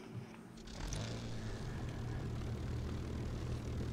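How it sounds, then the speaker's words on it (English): A Hawker Tempest's piston aircraft engine starts up in the War Thunder flight game on a test map, catching after a brief cough and settling into a steady, loud propeller drone with a low rumbling tone. "So we'll fire up the engine here."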